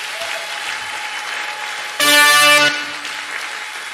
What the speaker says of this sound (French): Est-ce qu'on peut acclamer d'abord pour nous-mêmes?